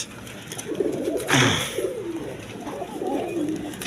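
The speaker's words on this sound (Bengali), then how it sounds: "এখানে এক পেয়ার লেস শার্টিং কবুতর আছে দেখার মতো কবুতর" Lace shirting pigeons cooing at close range, a soft rolling coo running through the clip with a brief louder rustle or flutter near the middle.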